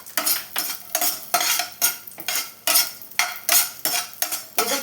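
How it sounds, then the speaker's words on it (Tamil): Raisins fry in a pan on low heat for rava kesari while a utensil stirs them, giving a rhythmic series of scraping, sizzling strokes about every half second, close and loud, with no talk. "இப்போ இதிலே காஞ்ச திராட்சை கொஞ்சம் வறுத்து எடுத்துக்கலாங்க."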